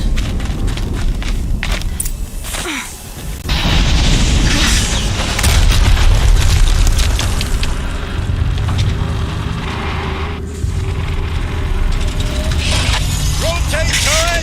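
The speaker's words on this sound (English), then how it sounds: "explosion." An explosion in the video game Horizon Zero Dawn: a loud, sustained rumbling boom with dense low-end roar lasting several seconds amid game ambience and clatter.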